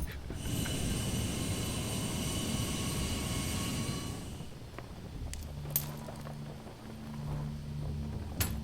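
A plane's aircraft engine drones steadily in the Metal Gear Solid 3 video game, a loud broadband roar that suddenly cuts to quieter game sounds with brief clicks and a low hum.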